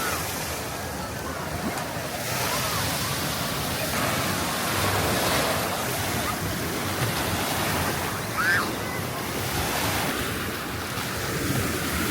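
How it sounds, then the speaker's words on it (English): Waves roll in at Blizzard Beach water park at Walt Disney World, a continuous broad surf wash with gentle swells, mixed with wind noise on the microphone. "I love just standing here listening to the waves coming over."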